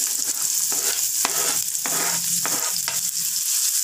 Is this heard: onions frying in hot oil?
yes